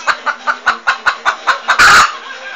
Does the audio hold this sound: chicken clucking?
yes